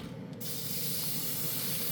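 A paint sprayer applying top coat paint starts with a short burst, then gives a steady, loud, close hiss that continues without break.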